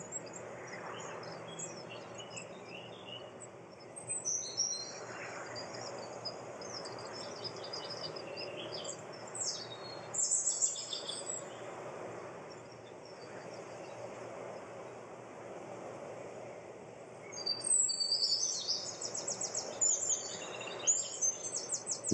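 Birds chirp and sing in a perennial garden in short bursts, faint and fairly distant, over a steady hush of wind and outdoor ambience, with no voices.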